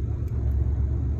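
A car with a learner driver easing onto the gas produces a steady low engine rumble, close and continuous, with no talk over it.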